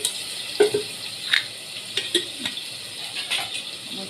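Onions sauté in hot oil in a pan for khichdi, giving a steady soft sizzle broken by several close, sharp spoon-stirring scrapes and clinks.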